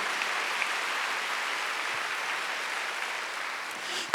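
Congregation at a Sunday church worship service clapping together, a steady, dense wash of applause held for several seconds at moderate level with no voices over it.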